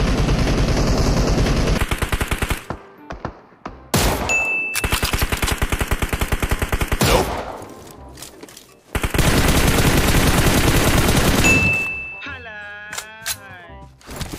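Loud automatic gunfire in PUBG Mobile comes in several rapid bursts separated by short gaps, along with metallic pings and a player shouting in between.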